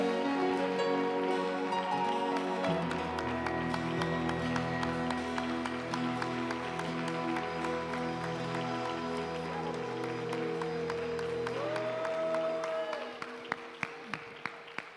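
A church congregation claps steadily and loudly over sustained organ-like music during a communion service, the applause fading near the end into a few scattered claps.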